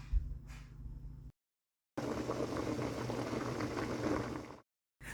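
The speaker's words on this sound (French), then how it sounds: "Dans de l'eau bouillante, je vais mettre à cuire nos spaghettis." Spaghetti cooking in a pot of boiling water, a soft bubbling rumble that stops briefly and then comes back steady and fairly faint.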